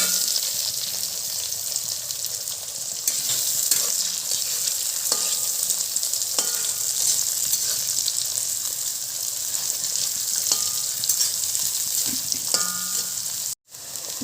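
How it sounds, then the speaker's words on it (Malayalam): Chopped shallots fry with a steady close sizzle in a pan for a curry with ginger, green chilli and garlic, a few sharp stirring knocks breaking through. "ഇതിലേക്ക് കുറച്ച് ചുവന്നുള്ളി അരിഞ്ഞ് ഇട്ട് കൊടുക്കാം"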